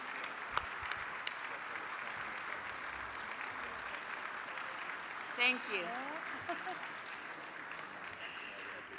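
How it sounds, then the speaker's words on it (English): Assembly delegates applaud steadily on the floor of a parliamentary assembly, a sustained wash of clapping from a large hall, with a brief spoken thanks and a short sharp knock partway through. "The clapping has gone on"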